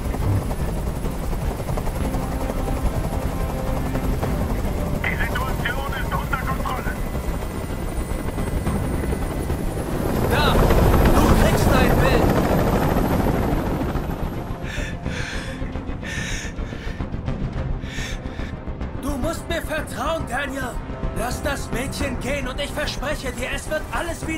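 A helicopter's loud thudding rotor drone in the video game Detroit: Become Human fills the scene, swelling as it passes overhead, with heavy breathing and gasps heard over it.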